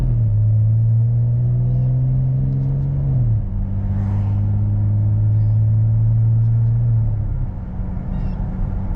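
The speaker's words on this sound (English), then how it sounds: "I'm gonna shift now." An automatic car in regular mode accelerates while gears are shifted manually, its engine droning low and steady, then dropping in pitch at one shift and continuing to pull, with a second shift near the end.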